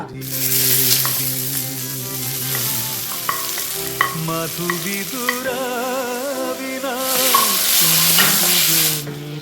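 Mustard seeds, curry leaves and chopped dried chillies frying in hot oil, a loud hissing sizzle that swells at the start and near the end, under prominent background music.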